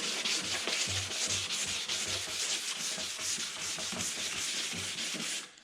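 A plastic car headlight lens is sanded by hand up close, giving a steady rhythmic scratchy rubbing of strokes back and forth that stops abruptly at the end.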